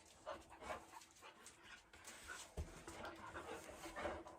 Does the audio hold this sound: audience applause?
no